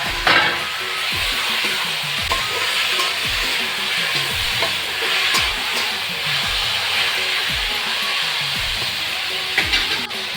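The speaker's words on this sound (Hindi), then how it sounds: "एमा डालबो अब टमाटर जो काटे हैं तेला।" Chopped tomatoes frying in hot oil in a pan for a Chhattisgarhi sour vegetable dish, a steady close sizzle broken by regular scraping stirs from a spoon.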